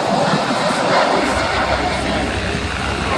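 A USAF KC-135 tanker jet flies past at the RIAT 2017 airshow at Fairford, its broad, steady engine roar filling the air at a constant, fairly loud level with no breaks.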